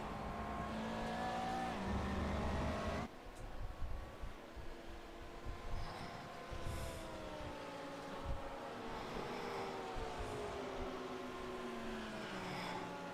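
McLaren race car engine in iRacing, heard onboard, droning at high revs, pitch sliding up and down through gear changes, with a sharp shift near the start and faint tire noise.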